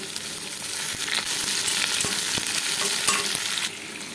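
Pointed gourd (potol) frying in hot oil, a loud, continuous sizzle with irregular crackles and pops, close up and alone with no talk, some sharp clicks as the pieces are stirred.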